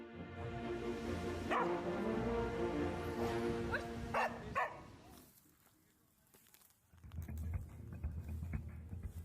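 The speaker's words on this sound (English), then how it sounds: "a highly trained sniffer dog and used to detect explosives in the overhead luggage rack of aircrafts" A trained explosives sniffer dog barks and yips in a few sharp bursts close by, then falls quiet before more dog noises and movement return.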